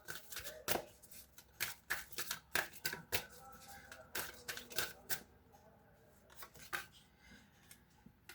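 Tarot cards from a second deck are shuffled close up in a rapid run of crisp riffling flutters and slaps. The shuffling slows and thins toward the end, with no voice over it.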